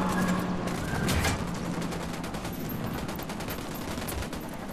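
Gunfire crackles at an enemy outpost in Ghost Recon Wildlands, a run of rapid shots and bursts at moderate distance over a dense, noisy background.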